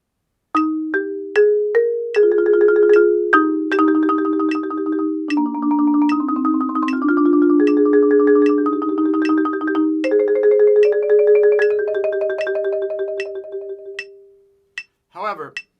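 Mallet percussion plays the slow section of a GMEA all-state middle school etude in strict time, a steady stream of clear ringing notes alone, then a few brief taps near the end.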